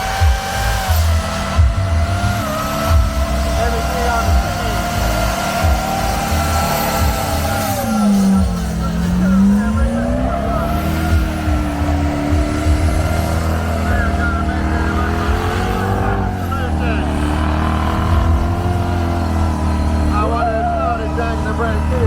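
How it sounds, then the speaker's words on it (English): A big V8 off-road truck revs hard as its tires dig into sand, a loud sustained engine roar with pitch swells and dips, while people talk over it. "Oh, that big V8 is digging those tires in."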